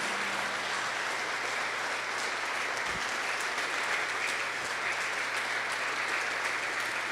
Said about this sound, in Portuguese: Uma salva de palmas para Jesus, irmãos, para Jesus